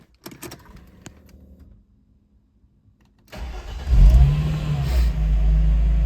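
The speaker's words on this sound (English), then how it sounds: "We'll start it up and we'll go over the engine." After a moment of near-silence with a few faint clicks, the 3.2-liter M104 straight-six engine of a 1995 Mercedes G320 G-Wagon cranks and catches, then roars loudly and keeps running with a heavy rumble.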